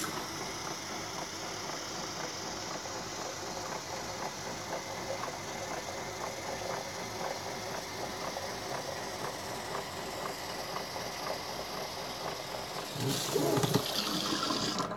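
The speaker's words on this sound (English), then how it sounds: "I gotta turn the faucet on for a second" Water runs steadily from a faucet, a constant rushing hiss with a mechanical undertone that continues for the whole stretch, then grows briefly louder and splashier near the end, with no talking.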